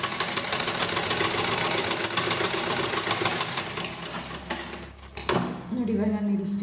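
A sewing machine stitching a blouse runs in a fast steady mechanical rattle for several seconds, slows and stops briefly, then starts again, close up.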